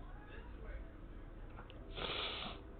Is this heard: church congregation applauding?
no